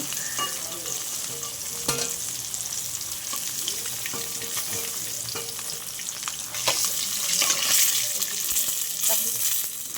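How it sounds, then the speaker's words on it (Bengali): Pieces of katla fish fry in hot oil with a loud, dense, continuous sizzle and crackle that swells toward the end, with occasional utensil clicks. "মাছগুলো ভাজা হয়ে গেছে"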